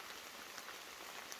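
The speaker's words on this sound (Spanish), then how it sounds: "son las 3 de la tarde y la lluvia no tiene piedad" Steady rain pattering on surfaces in a remote riverside area in Peru, a continuous soft hiss of drops with occasional brighter ticks, fairly quiet with no talk.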